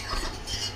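Metal utensils scrape and clatter against a pan while noodles are lifted out, a short burst of close, busy kitchen clinking with no talking.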